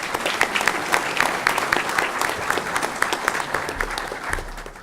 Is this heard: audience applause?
yes